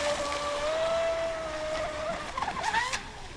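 A radio-controlled boat with a short standoff rudder speeds at full throttle across water, its whining motor steady and fairly close, pitch shifting and wavering near the end as it turns.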